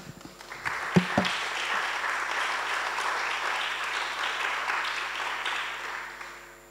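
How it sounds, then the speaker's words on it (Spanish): An audience at a talk on writing breaks into applause, a few sharp claps at first swelling into a full, steady ovation that fades away toward the end. "veo que desde que dije que no aplaudía, empieza todo el mundo a aplaudir"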